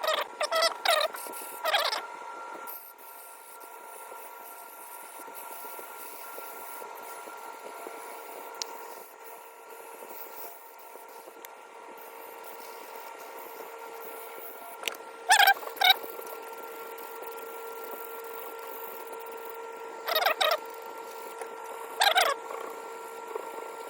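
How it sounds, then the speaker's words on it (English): Dry 220 grit sandpaper rubs a wooden duck call barrel in a faint, steady scratchy hiss, with a few brief louder scuffs and knocks scattered throughout. "we'll sand it right quick"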